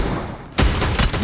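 Burst of close, punchy shotgun blasts from an M10 in PUBG Mobile, with a rapid second volley after a brief gap, loud and dense.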